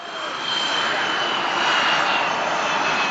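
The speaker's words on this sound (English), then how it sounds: "Behind the wedge tail, the P-8A Poseidon aircraft, the next generation in maritime patrol." A P-8A Poseidon maritime patrol jet passes at the Avalon Airshow, its engines a loud, continuous roar that swells slightly as it goes by, with no talk over it.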